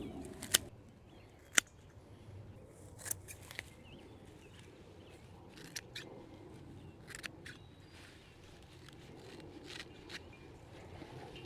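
Garden plant material being finely chopped by hand, a faint scattered series of sharp snips and cuts with a couple of louder clicks early on over quiet background, no speech.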